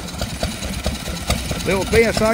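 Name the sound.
small Lister engine powering a domestic pump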